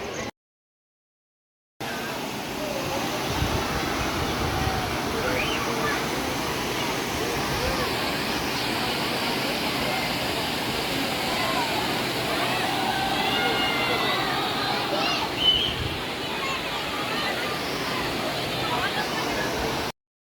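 Waterfall and flowing water at a hidden dargah among hills in Rajasthan, with bathers nearby; a broad continuous roar of falling water plays throughout after a short silent gap, with faint crowd sounds mixed in.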